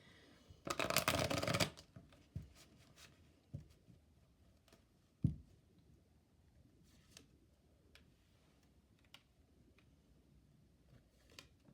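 A deck of tarot cards gets a quick riffle shuffle, a dense rustling burst lasting about a second, followed by scattered soft taps and card clicks in a quiet room.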